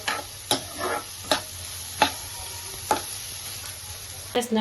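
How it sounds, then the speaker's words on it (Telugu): Tomato puree fries in a prawn, tender tamarind leaf and egg curry, with a soft continuous sizzle and regular spoon strokes roughly every second, close and clear with no talking. "బాగా ఫ్రై అయ్యాక అప్పుడు టమాటా ప్యూరీ వేసుకున్నాను."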